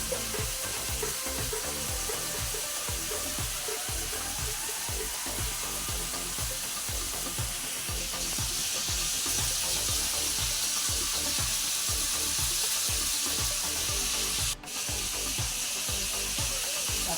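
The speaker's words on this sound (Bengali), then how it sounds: "কাঁচা লঙ্কা দিয়ে নেড়ে চেড়ে ভালো করে মিক্স করে নেবেন" Green chilies frying in a pan, a steady loud sizzle with continuous stirring and scraping throughout, and a brief dip near the end; no voices.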